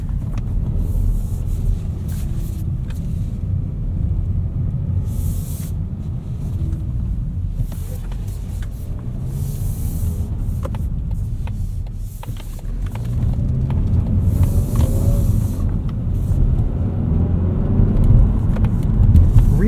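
A 2024 Mazda3 2.5 S Premium manual FWD drives on a wet road in cold weather, giving a steady low cabin rumble of engine and tire hiss that grows louder and heavier toward the end.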